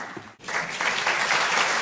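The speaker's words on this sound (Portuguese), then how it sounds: "Auditório aplaude painelista." Audience in an auditorium at a rural congress panel applauds a panelist, steady dense clapping that starts after a brief pause and holds loud and even to the end.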